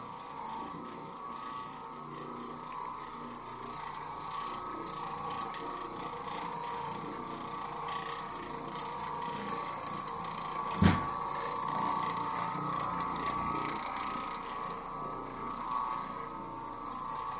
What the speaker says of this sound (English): Now this is an orbital machine